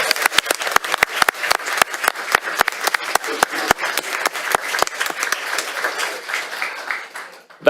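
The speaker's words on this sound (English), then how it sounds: "give a round of applause to our fifth grade valets" Applause for fifth-grade valets at a school district board meeting: a room of people clapping steadily with sharp, close claps standing out, fading toward the end.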